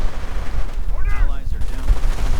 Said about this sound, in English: Rangers coming under a bit of nasty fire right there from the Grenadiers.